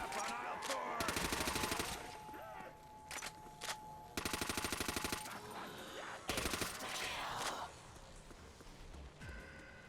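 Automatic STG-44 assault rifle fire in Call of Duty: World at War zombies, three loud sustained bursts of rapid shots separated by gaps, with game effects and ambience between.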